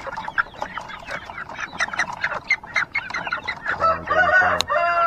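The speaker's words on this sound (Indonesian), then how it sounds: "ini anak ayamnya kelaparan" A flock of three-month-old chicks clucks and chatters busily nearby, with overlapping calls and a few louder squawks toward the end.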